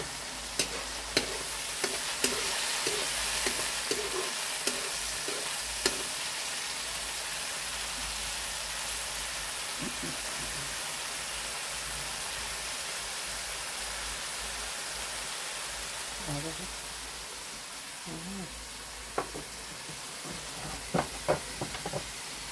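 Mixed vegetables such as celery, pepper and shallot frying in a pan for Guyanese fried rice, with a continuous sizzle broken by repeated scraping and clattering stirring strokes, loud and close throughout.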